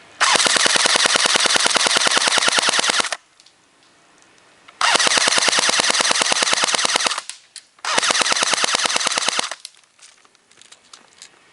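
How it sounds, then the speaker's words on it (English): A Galaxy Mk5 PDW airsoft gun with a short barrel fires three long full-auto bursts, loud and close, each a rapid even rattle lasting several seconds, with short quiet gaps between them. "And just fire away."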